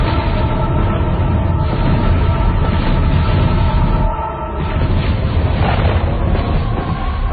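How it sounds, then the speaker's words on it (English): Film-score explosion from Terminator 2: Judgment Day, a dense roaring rumble as the shock wave and heat wave hit, loud and sustained, dipping briefly before surging again. "The loudest part is when the shock wave and the heat waves hit us."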